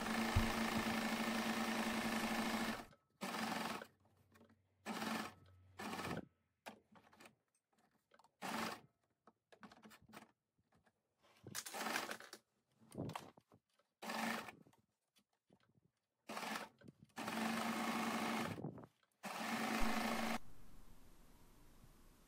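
A sewing machine finishes the seam edges of a summer skirt in a long run of short, stop-and-start bursts, followed by a final sustained stretch, close and clear with no talking.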